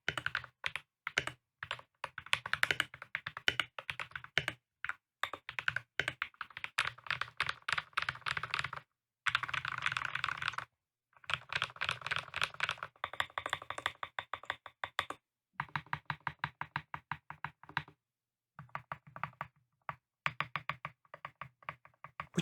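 Close, crisp typing on an Akko 3098B mechanical keyboard with lubed switches, springs oiled with 105 and housings and stems greased with 205 G0, in rapid clacking bursts separated by short pauses.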